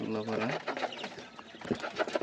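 Pigeon-like cooing and bird calls at a quail farm mixed with a person talking nearby, the birds soft and overlapping.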